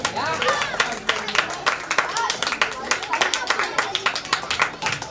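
Applause from an audience at a school prize-giving for a children's drawing competition: continuous clapping from a crowd, dense and fairly loud, with small swells and lulls across the clip.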